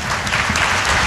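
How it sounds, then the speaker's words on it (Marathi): Audience applause at a comedic Marathi kirtan, many hands clapping steadily and loudly throughout, with no talk over it. "पुऱ्या महाराष्ट्रात टाळ्या वाजवा."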